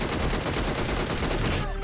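Rapid automatic gunfire in the video game PUBG Mobile rattles continuously and loudly, dense repeated shots filling the clip before cutting off near the end, with a voice faintly underneath.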